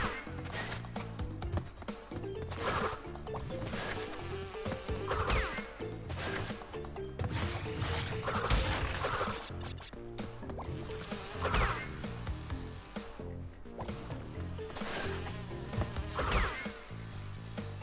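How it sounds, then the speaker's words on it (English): A single bee buzzes in Crash Bandicoot N-Sane Trilogy, its drone weaving through busy game music and effects, with repeated thwacks and rising swooshes over a continuous layered soundtrack. "At least there's only one bee."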